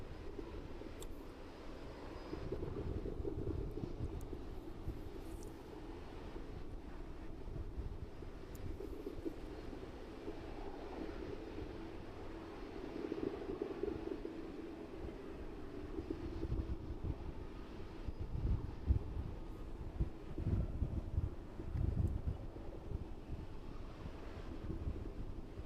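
Airliner taxiing toward the start of runway 27 at East Midlands Airport, a low continuous engine rumble heard from a distance with wind buffeting the microphone throughout.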